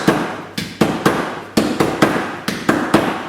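Sharp hammer blows knock pleats flat on a rolled brass shell casing for a 4-inch firework shell, about nine distinct metallic knocks in an irregular rhythm, close and loud, with no talking.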